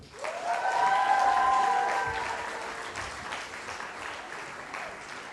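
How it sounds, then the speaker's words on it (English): A student comedy show crowd welcomes a comedian with loud, full applause and a few bright whistles that swell early, then ease off slowly into a softer patter. "please give a huge clap for Daley Francis"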